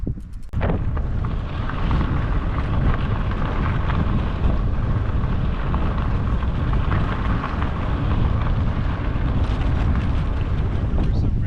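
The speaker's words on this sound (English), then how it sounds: "Got our first windstorm, rainstorm coming" Strong gusting windstorm with rain, a loud sustained roar of wind buffeting the microphone, rough and unbroken after a brief sharp burst at the start.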